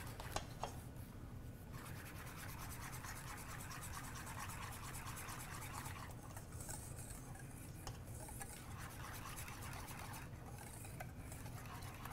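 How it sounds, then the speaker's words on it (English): Chocolate being whisked into an egg yolk and cream mixture, a rapid steady scraping and clicking of the whisk against the bowl that carries on for the whole stretch, close and fairly quiet. "So I take about 1/3 of it and whisk that together."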